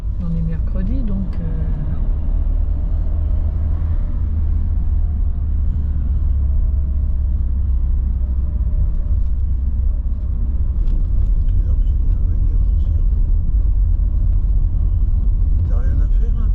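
Street traffic of trucks and cars rolls past in a continuous loud low rumble, with people talking over the passing vehicles.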